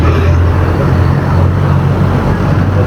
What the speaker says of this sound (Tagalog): Kaya pala traffic.